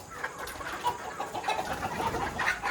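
Free-range desi country chickens clucking steadily at a farm in the evening, several birds close by with overlapping soft clucks and occasional louder calls, no talking.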